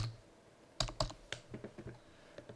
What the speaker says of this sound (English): So you're going to type in your business name here